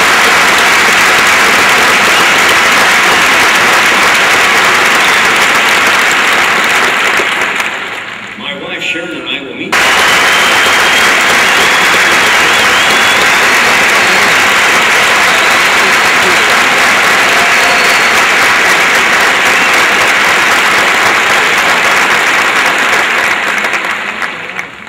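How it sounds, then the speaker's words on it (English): Loud, dense applause from a large university graduation audience for newly commissioned officers, briefly interrupted by a short spoken line before swelling again and continuing steadily. "We invite your applause for these."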